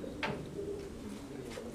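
A Saxon Spot fancy pigeon coos softly and low, a brief throaty murmur against faint background noise.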